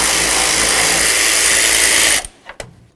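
A ratchet works on a fan shroud mounting bolt of a 2004-08 Ford F-150 during a water pump job, with a dense, loud mechanical rasp for about two seconds that stops abruptly, followed by a few short faint clicks.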